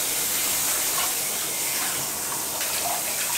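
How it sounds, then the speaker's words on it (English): Water rushes and hisses steadily as a bathtub drains, close and continuous, with no talking. "Let a little bit of water out."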